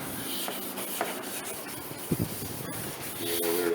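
Sandpaper rubbing across a car body panel on a Factory Five 33 hot rod kit car, a continuous close abrasive hiss with a trapped grain of sand scratching briefly amid the steady rasp.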